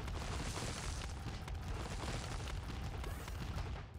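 Continuous booming explosions from the modded Binding of Isaac Repentance video game, a dense, loud rumble of overlapping blasts that roars steadily throughout with no pauses.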